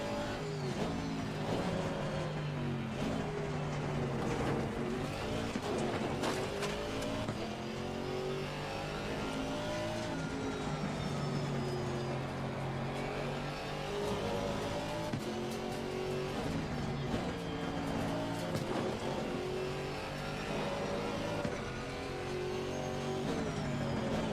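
A Mercedes race car in Assetto Corsa Competizione, its engine droning continuously from the cockpit, rising and falling through revs and gear changes, with occasional tire squeal and no talk.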